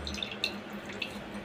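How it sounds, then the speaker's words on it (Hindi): Water is squeezed out of chopped vegetables for a momo filling, giving close, quiet drips and small splashes that trickle unevenly for a second and a half. "इस तरीके से हमें इसका सारा पानी निकाल लेना है।"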